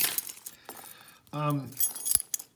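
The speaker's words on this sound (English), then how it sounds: "Here is a genuine key that fits these." Metal key for an old US Customs counter lock being handled, with jangling and clinking of metal close up, someone speaking over part of it.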